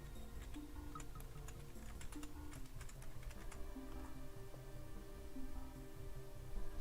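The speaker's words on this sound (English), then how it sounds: "Test typing back to you real quick." Keys clatter in quick irregular bursts of typing on a computer keyboard, close and fairly quiet, with faint music playing underneath.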